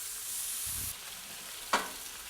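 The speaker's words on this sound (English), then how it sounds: "I'll do the tomatoes in another pan just to saute them a little bit" Tomatoes sautéing in a frying pan at an outdoor cookout: a faint, soft sizzle with a low thud early on and one sharp clink of a utensil against the pan.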